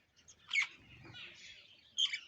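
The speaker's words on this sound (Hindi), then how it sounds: "देखो ये गौरे पक्षी है जो पानी के अंदर है" Small sparrows playing in rainwater give a couple of short, bright chirps, one near the start and another near the end, over a faint background murmur.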